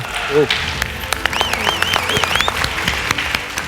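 An audience claps at a televised Malayalam comedy skit show, with dense applause throughout and a voice and some whistle-like sounds over it.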